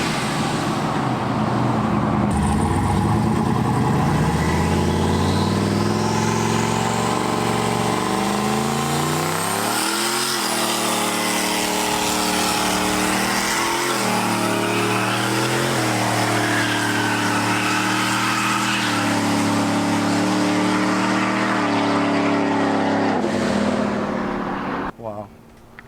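A car engine idles, then revs hard through repeated rising and falling sweeps, loud and close for nearly the whole stretch, with some speech under it and roadway noise around it.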